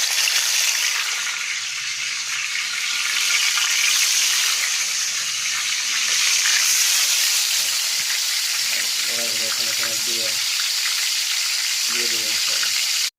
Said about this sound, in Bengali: এখন গরম তেলের ভিতরে একটা একটা করে দিয়ে দিবি, দেখেন।